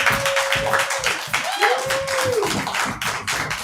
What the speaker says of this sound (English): you guys can clap for everybody